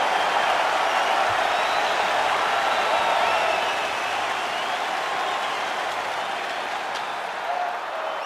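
A capacity arena crowd applauds and roars in the UFC 5 video game before a Demetrious Johnson vs Brandon Moreno lightweight championship fight, a dense, loud, steady wash of clapping and cheering throughout.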